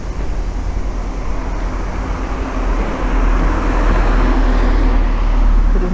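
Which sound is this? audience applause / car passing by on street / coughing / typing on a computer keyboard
car passing by on street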